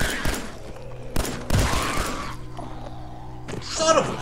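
A pistol fired in the video game Fallout 4: a few sharp, loud shots at irregular intervals stand out against busy in-game ambience.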